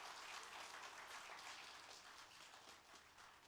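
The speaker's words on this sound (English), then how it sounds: "please clap your hand." Conference audience applauds at a closing session, a dense wash of many hands clapping at moderate distance, steady then gradually thinning.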